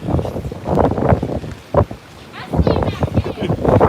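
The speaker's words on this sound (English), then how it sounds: "The wind's probably 20, 25 miles per hour." Hurricane Dorian's strong gusting wind at the Flagler Beach Pier buffets the microphone in a steady rough roar, with people talking over much of it.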